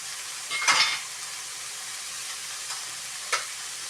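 Squash pieces dropped into shrimp sautéing in a pan for ginisang sitaw at kalabasa, giving a brief burst of sizzle and scraping stir near 0.7 s over a steady low frying hiss, with a couple of lighter clinks later.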